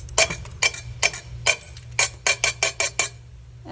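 A kitchen knife repeatedly strikes a stuck bit of glaze on a ceramic kiln shelf, giving about a dozen sharp, close clinks in an uneven rhythm that quickens toward the end, with no talking.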